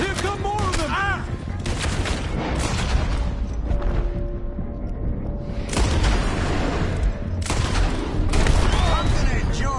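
Shootout gunfire in the video game Red Dead Redemption 2, with bursts of sharp shots cracking in irregular clusters amid shouting voices and dialogue, loud and close, pausing briefly before more volleys.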